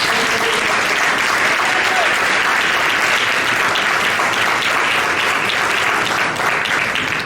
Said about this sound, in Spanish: Dale un aplauso fuerte a la palabra.